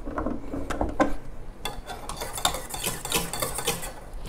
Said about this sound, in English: I'm gonna stir it a bit more.